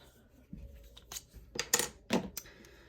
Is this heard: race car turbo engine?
no